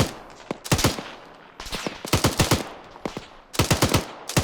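Gunfire in a Second Korean War alternate-history war game: three bursts of rapid automatic shots, each a tight cluster of sharp cracks separated by short pauses, loud and close with no talking.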